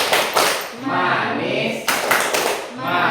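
At a school gathering, a group performs a patterned clapping chant game, sharp bursts of hand claps in rhythmic clusters separated by brief pauses, mixed with voices chanting along.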